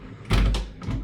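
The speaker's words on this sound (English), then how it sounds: "bathroom door." A bathroom door in a Berlin hotel room swings open with a single clunk and broad rustling thud, followed by a softer second knock, close and alone.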